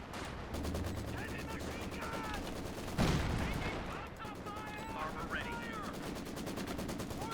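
Machine gun bursts and artillery fire in the Company of Heroes 2 video game, a 3v3 match on the Across the Rhine map, with steady rattling gunfire throughout and a heavy shell impact partway through.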